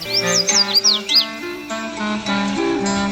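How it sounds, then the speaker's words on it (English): A red-faced warbler sings a quick series of high, bright chirps and sliding notes up front, clear and close, over a sustained musical background. "Today's Talkin' Birds featured feathered friend, Cardellina rubrifrons, the red-faced warbler."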